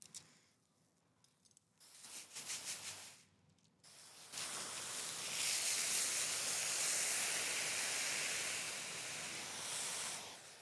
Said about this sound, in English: I hope I emptied out this sprayer That's why I'm soaking this down right now